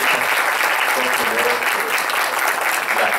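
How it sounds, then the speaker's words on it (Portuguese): Audience at a round-table event in a municipal chamber in São Paulo breaks into loud, dense applause, a continuous close roar of many hands clapping at once that holds steady throughout. "pedir um aplauso para os nossos irmãos da Vivência Espírita"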